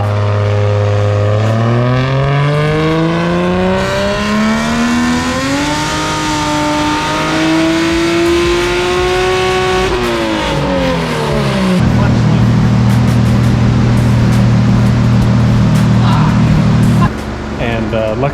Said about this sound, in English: the clutch started slipping on the dyno